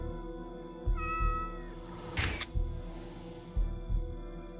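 A cat meows in the DreadOut 2 horror game, a single drawn-out, close meow with harmonic tones, set over a steady low ambient drone and soft thuds.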